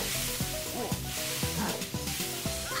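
Steak sizzling on a grill in a Super Mario Party frying minigame, a steady game hiss with layered electronic music and sound-effect blips throughout.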